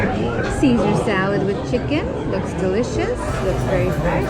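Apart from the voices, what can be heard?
busy restaurant crowd chatter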